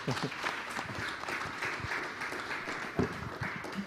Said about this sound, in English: Excellent timing, and applause